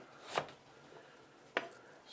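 Two sharp knife chops through potatoes on a cutting board, about a second apart, each a short crisp thud, fairly close and alone with no talk.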